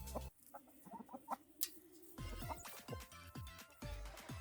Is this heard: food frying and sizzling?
no